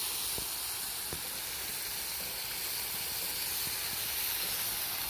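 Fish frying in a pan at an outdoor jungle picnic gives a steady, loud, unbroken hiss and sizzle with faint scattered crackles and no talk.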